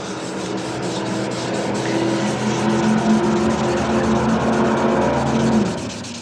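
Steady abrasive rubbing as paint is sanded off a Harley-Davidson Dyna fender, a continuous close scratchy hiss lasting several seconds before easing off at the end, with no talking.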